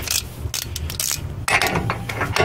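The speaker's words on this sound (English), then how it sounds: "We're gonna use a 1/2 inch drive." A half-inch drive ratchet loosening a 27 mm nut: close, crisp ratcheting clicks in rapid bursts, with a brief pause midway before another run of clicks.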